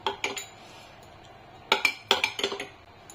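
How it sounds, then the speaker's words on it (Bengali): A metal spoon beats yogurt in a bowl, giving a couple of quick clinks near the start, then a cluster of sharper, louder scrapes and taps in the second half, with a quiet gap between. "দইটাকে ভালো করে আমি চামচের সাহায্যে ফেটিয়ে নেবো"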